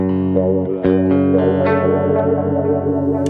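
Electric guitar run through an Alexander Superball dynamic delay pedal with its filter opened up, sounding sustained, chorused chords and notes with modulated, swirling repeats and a few sharper picked attacks, loud and continuous with no talk.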